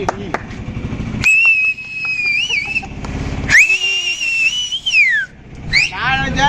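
Loud, sustained whistles ring out in long sliding tones, several overlapping, with a cheerful crowd and chatter beneath them at a birthday celebration.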